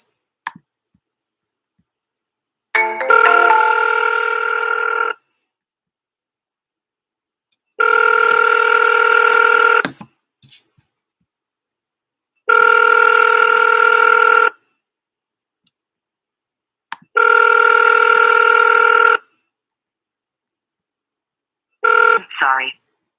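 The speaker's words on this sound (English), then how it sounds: "Let's see if I can call him from right here using the caller ID." An outgoing phone call rings through a handset speaker: four long, even electronic ring tones separated by silent gaps, each a steady buzzing pulse, preceded by dialing clicks and ending as the line cuts off toward a recorded voicemail message.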